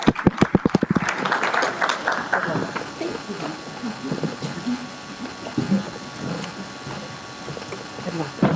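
Audience at a candidate forum applauding, starting with a few sharp individual claps and swelling into a dense, sustained round of clapping in a hall, with some voices mixed in.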